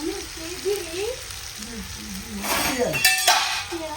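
Gram-leaf vegetable frying in hot oil in a home kitchen, a steady sizzle with clinks of a utensil against the pan as it is stirred, while someone talks over it.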